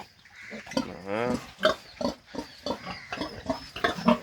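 A pig on a small farm lets out a drawn-out, wavering squeal close by, set among grunts and a person talking in short bursts.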